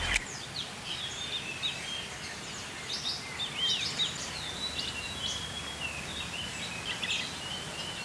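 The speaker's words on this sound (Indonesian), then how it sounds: "Nih burung-burung ini kalau pagi hari ini belum dikasih makan. Semuanya bersuara." Many small birds in a morning aviary chirp and call in overlapping bursts over a steady outdoor background hiss, busy and fairly distant, with no voices.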